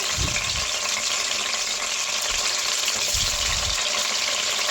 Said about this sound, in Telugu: ఇలా వంకాయలన్నిటిని మొత్తం ఆయిల్లో వేసుకొని ఫ్రై చేసుకోవాలన్నమాట